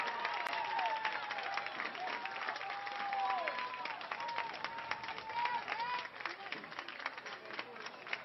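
A near-capacity crowd applauds steadily at the Samford softball field after a 7th-inning game-ending out, dense continuous clapping with scattered cheers beneath an announcer talking over it.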